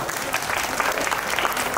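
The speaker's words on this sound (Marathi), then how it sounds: "नक्की असेल तर तुम्ही सर्वांनी टाळ्या वाजून एकदा त्यांचा पुन्हा एकदा" An audience at a housing society's annual day puja claps in a dense, steady burst of applause, fairly close and even, filling the short moment without pause.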